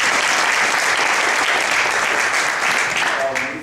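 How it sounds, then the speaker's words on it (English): An audience at a Black Poetry Theater event breaks into loud, sustained applause that stays full for several seconds before thinning out, a voice emerging as it ends. "So everybody give them a round of applause."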